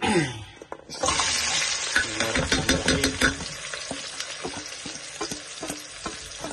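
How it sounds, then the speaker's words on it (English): Onions and garlic drop into a hot pan and fry with a loud, close sizzle that starts after about a second, with stirring clatter breaking through the crackling. "So I'm just gonna put the onions in."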